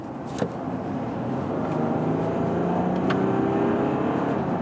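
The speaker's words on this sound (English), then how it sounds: "let's go to the sport mode, and then I'll accelerate" A Volkswagen Touareg accelerates from 60 km/h in sport mode, its engine note rising steadily into a loud, continuous drone heard from inside the cabin, with road noise beneath.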